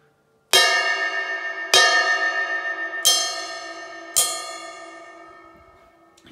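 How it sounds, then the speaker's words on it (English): A stick strikes the bell of a Sabian 22-inch AAX Omni ride cymbal four times, and each bright, bell-like tone rings on with a long shimmering decay. The sound is close and there is no speech. "Here's the bell of the Omni."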